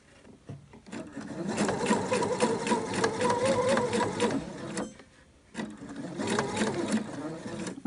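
A sewing machine stitches bias tape around a fabric corner, running steadily in a loud close whir, stopping briefly near the end, then starting again.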